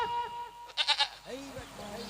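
A goat bleats several times while being dragged along at a village fair, its wavering cries coming in short bursts over background chatter and crowd noise.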